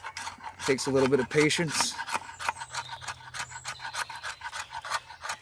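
Steel scraped along a resin-rich piece of fatwood to raise fine shavings makes a steady run of close, rasping strokes, with someone talking over the first part.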